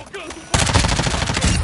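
MP5 submachine gun in Call of Duty firing a loud, rapid automatic burst that starts abruptly after a brief quiet moment and carries on to the end.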